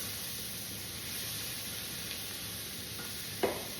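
Onions cooking down in a pan for New Orleans style red beans and rice, giving a steady soft sizzle and hiss that runs the whole time, with a light clink near the end.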